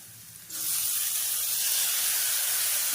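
Tomatoes hit a hot pan while cooking a capsicum and green gram kadayal, bursting into a loud, sharp sizzle about half a second in and hissing steadily after.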